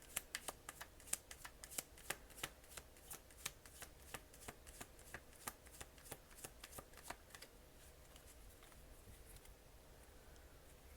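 A tarot deck is shuffled close up in quick, crisp riffles and taps of cards, repeated in a steady rhythm before thinning out toward the end.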